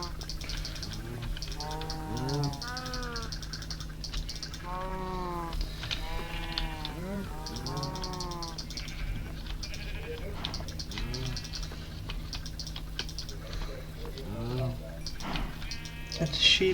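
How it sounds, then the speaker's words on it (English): Minecraft sheep bleat again and again in short wavering calls that overlap as if from several animals, fairly close, with a steady game hum underneath and some talk. "Get the sheep grown, and we'll get the sheep over here bred as well."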